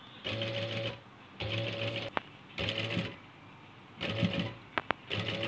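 A domestic sewing machine with a single presser foot stitching alongside an opened zip on a double-layer frock, running in short bursts of whirring with clicking pauses between them.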